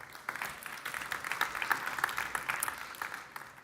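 Audience applause at the Formnext trade fair live broadcast, a fairly faint, distant wash of many hands clapping that swells slightly in the middle and thins toward the end.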